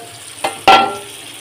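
Rohu fish fries with onions in a pan: two quick bursts of sizzle, the second louder as the onions go in, then a fading hiss, close and brief.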